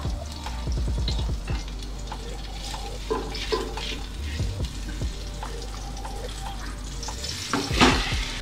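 Marinated chicken sautés in a spoonful of ghee inside a heavy-bottomed handi, a steady close sizzle broken by scraping stir strokes and clatters of the spoon against the pot, with no talking.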